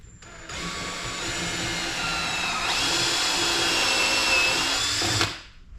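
A power drill bores holes for mounting a Moroso battery box in a 1976 Chevy LUV, one steady high whine that runs for about five seconds, rises slightly partway through, then cuts off.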